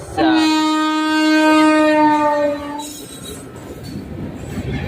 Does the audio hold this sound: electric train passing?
yes